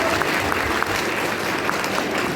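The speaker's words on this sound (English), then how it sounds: "Clap for them." An audience claps for correct answers during an Independence Day school quiz, a loud, even wash of continuous applause from many hands with no pauses, lasting the whole moment.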